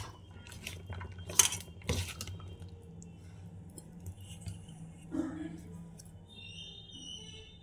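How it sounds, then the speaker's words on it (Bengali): Peanuts (badam) being mixed by hand with salt and a little water in a bowl, with a few sharp clinks and scrapes against the dish over quiet, soft rustling. "এবার নুনটা দিয়ে দেব একটু, আর এইভাবে মেখে নিতে হবে।"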